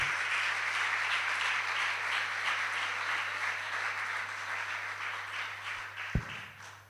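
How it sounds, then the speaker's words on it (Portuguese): A church audience applauding, a steady, moderately loud wash of many hands clapping over a low hum, tapering slightly near the end with one sharp thump. "Você pode aplaudir o nome do Senhor?"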